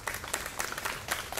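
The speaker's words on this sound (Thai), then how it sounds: "ก็ขอเสียงปรบมือให้กับนักศึกษาทุกคนด้วยนะครับ" An audience claps for the students at a live art exhibition event by fine arts students in Chiang Mai, a short burst of brisk, scattered hand claps heard close and fairly clear.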